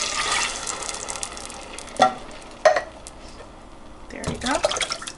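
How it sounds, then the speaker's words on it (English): Peaches poured into hot butter in a pan, giving a continuous frying sizzle with a few sharp splashy bursts and stirring scrapes, close and fairly loud, with some talking over it. "I'm just gonna go ahead and pour my peaches in."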